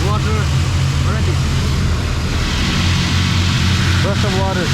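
An automatic car wash sprays water over a car in a continuous, close, loud hissing rush. A low machinery hum runs under the spray, with brief chirpy tones near the start and end.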